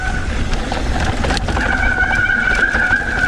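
Overheated mountain bike brakes on a steep Alpine descent: a thin, sustained squeal that grows stronger midway, riding over loud rolling and wind rumble.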